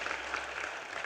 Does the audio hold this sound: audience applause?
yes